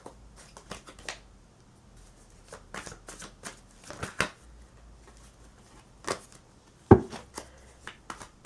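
Tarot cards being shuffled by hand during a reading: a series of soft, quick riffling bursts and slaps at close range, with one sharper tap near the end, in a quiet room with no talking.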